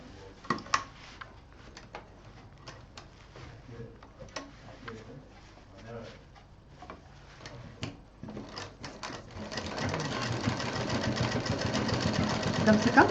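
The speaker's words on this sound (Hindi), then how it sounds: "और अब हम इसको यहाँ पर मशीन चला देंगे, इस तरह से करके।" A sewing machine stitches a sling bag in a rapid mechanical whir that builds and stays steady toward the end, after a stretch of quieter handling clicks and soft speech.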